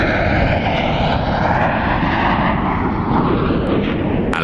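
Military aircraft over the Adriatic producing a loud, steady broadband engine roar that fills the whole stretch without break, with no voices.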